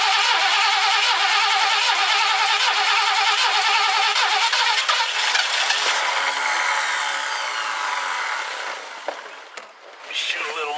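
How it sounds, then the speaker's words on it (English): Engine of a 1969 Ford Econoline van cranking continuously with the choke pulled, a loud steady whirring churn for most of the stretch that falters and drops near the end without catching clearly. "we're going to go ahead and pull the choke, give it a little whirl and see what happens."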